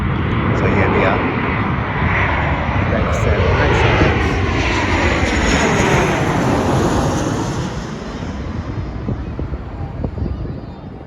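A Qantas passenger airplane passes close overhead near the Gold Coast, a loud broadband jet roar that swells, holds steady and slowly fades, with some wind buffeting and no talk.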